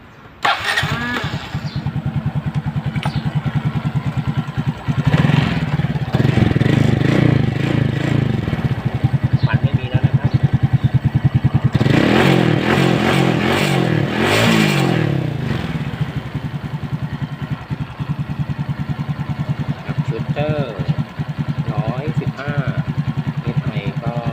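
Suzuki Shooter 115fi motorcycle engine, freshly rebuilt with a new bored cylinder, piston and rings, starts up and runs with loud, steady pulsing and several rising revs, close by throughout.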